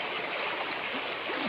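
A river stream flows with a dense, steady rushing wash of water, close and continuous throughout, with faint voices underneath.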